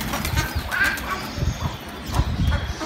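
Flock of pigeons takes off after being fed grain, wings flapping in rapid, scattered bursts close by, with a few coos mixed in.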